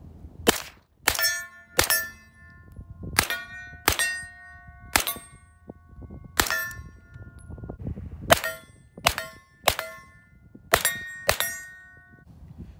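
Nine sharp, loud gunshots in an irregular sequence from a 9mm rifle with a 16-inch upper, firing AAC 115-grain ball ammunition, each shot ringing out cleanly with no voices in between.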